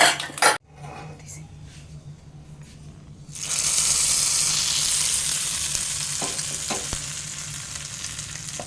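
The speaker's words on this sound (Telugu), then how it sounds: "పోపు కూడా బాగా వేగిందండి ఇప్పుడు మనం పోపు వేసేసుకుందాం" Clatter of a metal utensil against a pot, then a loud sustained sizzle as a hot tempering of mustard seeds, lentils, chillies, cumin and curry leaves is poured into peanut chutney and mixed, slowly fading with light clinks.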